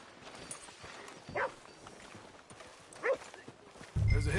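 Horse hooves clip-clop at an easy pace in Red Dead Redemption 2, sounding soft and somewhat distant. A couple of louder hoof strikes stand out, and a heavier rumble enters at the end, with no talk.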